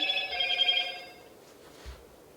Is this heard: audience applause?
no